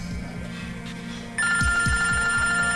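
A mobile phone rings in a drama scene, a repeating electronic ringtone that starts partway through and continues loudly over a low background hum, with no talking during the ring.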